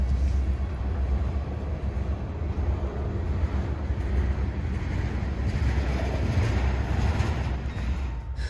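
A freight train rolls past on the New River line with a steady, broad rumble and rushing noise, continuous and fairly distant, no voices.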